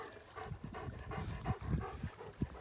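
A dog panting after swimming out to fetch a ball from the water, quick rhythmic breaths close by, with a few louder huffs and no talking.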